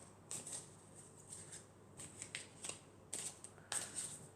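Oracle cards from an elf deck are shuffled and drawn, giving soft, quiet riffling and sliding bursts in several short clusters with no talking.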